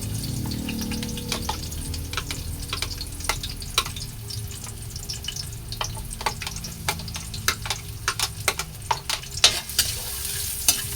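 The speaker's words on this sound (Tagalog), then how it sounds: "Magsisimula na tayong maggisa. Lagay natin ang bawang." Garlic sautéing in a pan for menudillo, a steady close sizzle broken by frequent sharp scrapes and taps of a spoon stirring against the pan.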